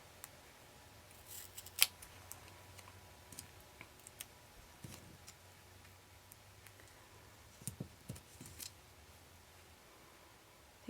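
Scissors cutting through rubber stamp material for mounting, heard as sparse, quiet snips and clicks spread across a faint room background, with a small cluster of crisp cuts near the middle and end.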